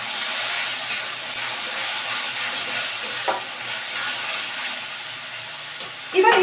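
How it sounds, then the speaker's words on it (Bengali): Chicken keema sizzles and fries in a pan with a steady hiss while it is stirred now and then, with a louder scrape and sizzle near the end. "আমি ঢাকাটা একটু সরিয়ে নিলাম, নিয়ে আবার একটু ভালো করে মিশিয়ে নিচ্ছি।"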